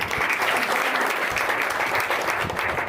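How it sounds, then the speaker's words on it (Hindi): Brief burst of loud, dense applause from an audience at an honouring ceremony during a Panchakarma training camp, steady for a few seconds. "इनके लिए भी तालियां होनी चाहिए"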